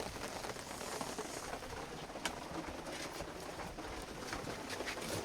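Heavy rain pours down outside a hut in the forest, a dense, continuous hiss of drops on surfaces with a few sharper splashes, fairly faint and even throughout.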